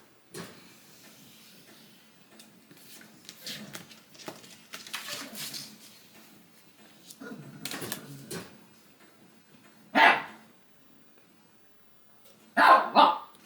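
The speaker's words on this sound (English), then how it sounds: "that is my dog who's upset that I closed my door" A dog barks indoors behind a closed door in two sharp bursts near the end, after a stretch of quieter rustling and handling noises.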